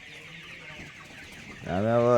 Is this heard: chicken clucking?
yes